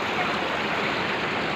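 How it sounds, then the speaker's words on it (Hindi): A waterfall sends down a continuous broadband rush of falling water, loud and steady, with no voices over it. "झरना आ रहे है।"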